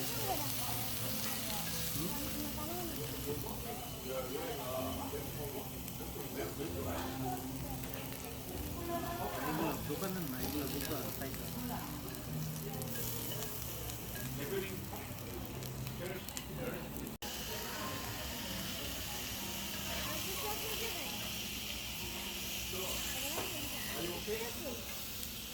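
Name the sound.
onions and mushrooms frying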